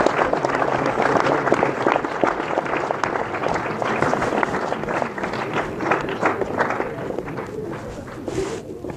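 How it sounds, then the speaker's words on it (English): A school assembly audience at Sutherland High School gives sustained applause, a continuous crackle of many hands clapping at fairly even loudness throughout. "Let's give her a round of applause."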